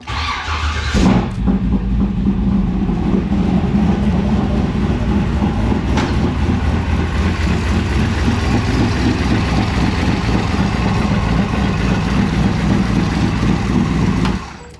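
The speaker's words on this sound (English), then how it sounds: "2 pumps, one to close the chuck, one to put fuel in it." Steady mechanical whir and hum of two electric fuel pumps running continuously, loud and close, with a faint click near the start and the drone stopping abruptly at the end.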